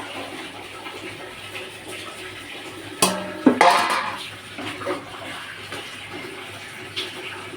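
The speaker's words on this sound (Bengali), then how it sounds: "এবার আমি জল দিয়ে দেবো এর" Water is poured into chicken curry cooking in a pan: a short splashing pour rises near the middle of the clip, moderately loud over a steady low kitchen background.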